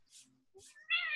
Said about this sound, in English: Yes, and a kitty.